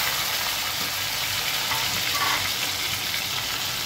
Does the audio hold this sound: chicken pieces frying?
yes